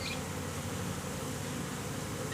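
Dense, steady buzzing of many honeybees close at hand during a hive inspection as the upper frames are worked, a continuous even drone with no talking.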